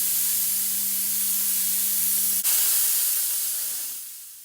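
A CLEANVAC C-20 steam cleaner hisses steadily while cleaning windows, with a low motor hum that stops midway as the steam noise continues, then slowly fades out.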